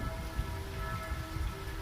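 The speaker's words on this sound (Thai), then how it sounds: "ฝนก็ตกบรรยากาศเงาๆแบบนี้" Rain falls steadily outdoors on a windy day, a close, continuous patter with faint rumbling underneath and no speech.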